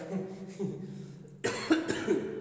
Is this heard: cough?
yes